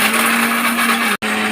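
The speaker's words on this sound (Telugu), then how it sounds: "ఈ ముక్కలు చల్లారాక మిక్సీలో వేసుకొని కొద్దిగా సాల్ట్ వేసుకోవాలండి" A kitchen mixer grinder whirs loudly and steadily as it grinds cooled coconut pieces with a little salt into powder, cutting out for a split second before resuming its high hum.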